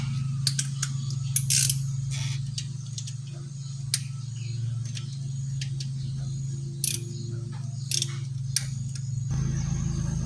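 A torque wrench tightens the valve cover bolts on a 1994 Toyota T100, giving sharp, irregular ratcheting clicks and creaks close by over a steady low hum of engine-bay or room noise.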